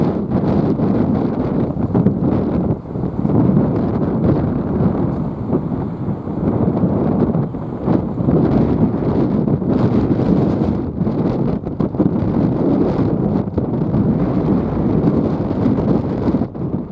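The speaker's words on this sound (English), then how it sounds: "It's quite blustery, so I'll not talk too much here." Gusty wind buffets the microphone at Belfast docks as a cruise ship comes in, a loud, steady roar with frequent surges and gusts running throughout.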